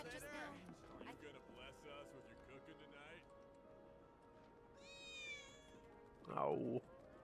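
A short cat meow sounds near the end of a Final Fantasy VII Remake scene, brief and fairly loud, following a stretch of talk and busy game sounds.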